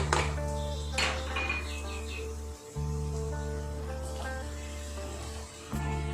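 Chopped cucumbers tipped into a pan of cooked onion, tomato, green chilli and spices for cucumber curry, giving metallic pan and utensil clinks and scrapes over a steady stove hum, with two brief dips near the middle and end.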